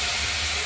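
A spice paste mixed with turmeric hits a hot wok during fish curry cooking, producing a loud, dense, continuous sizzle heard up close, with no voices.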